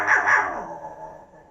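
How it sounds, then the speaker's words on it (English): A dog gives two quick loud barks close by, each ringing out and fading into a short echoing tail, with no voices over them. "And the poor dog would bark all day."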